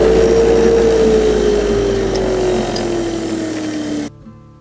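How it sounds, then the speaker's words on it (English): Bench grinder polishing bicycle bolts from a Trek 7500 hybrid, a loud steady whirring whine that slowly drops in pitch as the wheel loads up, then cuts off abruptly. "We'll go over to the grinder and polish these up."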